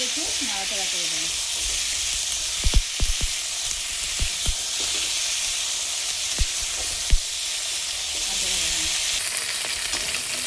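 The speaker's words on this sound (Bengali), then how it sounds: "ফুলকপিগুলোকেও আমি একটু ভেজে নেব।" Cauliflower florets frying in hot oil, a loud continuous sizzle and hiss close by, with sharp clicks of the spoon against the pan as the pieces are turned.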